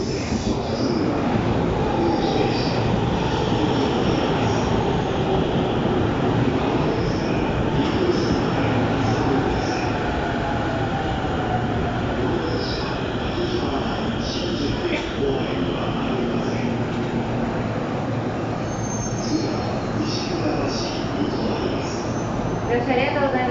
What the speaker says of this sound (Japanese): 2番線に各駅停車津田沼行きが参ります。